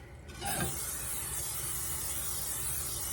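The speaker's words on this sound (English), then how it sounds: "I'm going to spray my skillet a little bit" A short burst of cooking spray onto a hot skillet gives way to a continuous sizzling hiss that holds steady to the end.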